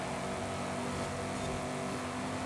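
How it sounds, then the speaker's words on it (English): A car engine in the video game Forza Horizon 5 drones steadily, its hum building slightly as a rival car draws closer in a race, with no talking. "I can hear this car catching up to me here."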